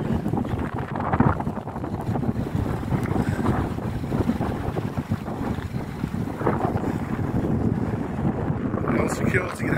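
Strong wind buffets the microphone in constant low rumbling gusts outside a gate at RAF Scampton, with an outdoor, open-water feel and faint sounds in the background.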